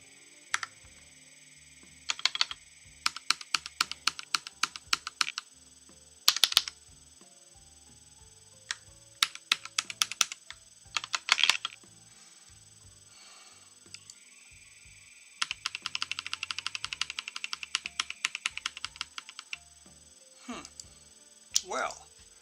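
Someone types on a computer keyboard in quick clattering bursts of keystrokes separated by short pauses, close and distinct over a steady faint hum.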